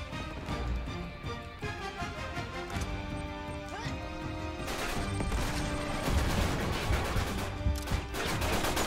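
Gunfire rattles in an Uncharted 3 multiplayer match, with a grenade explosion among the shots: dense bursts of shots and sharp impacts over a continuous din, growing heavier toward the end, with no speech.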